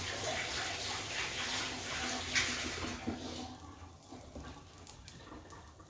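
Water runs from a tap into a kitchen sink, a steady close splashing rush that tapers off and quiets partway through.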